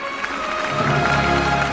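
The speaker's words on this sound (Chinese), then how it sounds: "热烈的掌声再次送给你们" Audience applause at a Yue opera children's contest final, a steady wash of clapping from a sizable crowd that swells slightly and holds evenly throughout.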